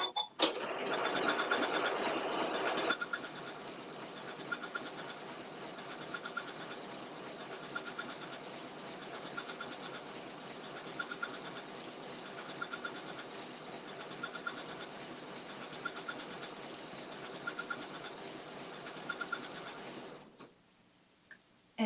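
An Elna eXcellence 780+ sewing machine stitches a flying geese pattern: a steady, quiet mechanical whir with faint rhythmic ticks running for about twenty seconds, louder at the start, then stopping near the end.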